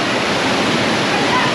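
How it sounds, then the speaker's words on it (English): Water rushing and splashing on Popeye and Bluto's Bilge-Rat Barges river raft ride at Universal Orlando, a loud, steady broadband roar filling the whole moment with no clear breaks. "Popeye and Blue's Bilge Rat Barges, which I am excited to ride because I love this water ride"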